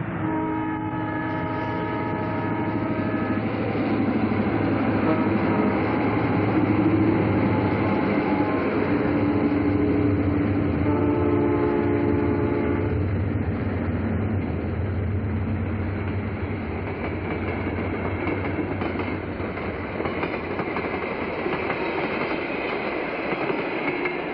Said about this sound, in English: The Texas chief crosses the bridge over the Chicago Sanitary and Ship Canal.